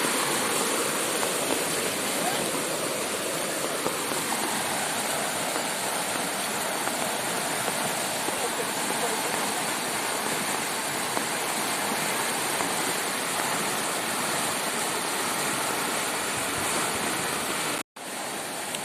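Constant heavy rushing water roars without pause, a dense broadband wash from the flooded Dogura Creek near Port Moresby, briefly cutting out near the end.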